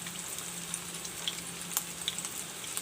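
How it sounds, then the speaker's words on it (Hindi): Chapli kebabs of raw mince fry gently in a pan over low heat, a soft continuous sizzle with scattered tiny pops and crackles, fairly quiet and close, with no voices. "तकरीबन 4 से 5 मिनट एक साइड सेकेगा, हल्की आंच पे सेके, क्योंकि वो कीमा बिल्कुल कच्चा है।"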